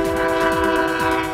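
A commuter rail train sounds its horn during the testing phase of a new line in Aurora, a loud, steady multi-tone blast held unbroken from start to finish with no voices.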